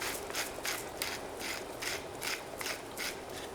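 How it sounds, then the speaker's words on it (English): A pepper grinder cracking pepper close by, with quiet, repeated ratcheting grinds in an even rhythm of about eight turns and no talking. "But we can put some cracked pepper."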